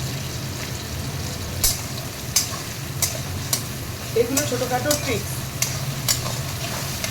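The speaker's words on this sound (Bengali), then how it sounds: "লাল করে একটু ভাজবো।" Onions fry with salt in a pan, sizzling steadily and up close, while a spoon scrapes and taps the pan every second or so. Someone speaks briefly partway through.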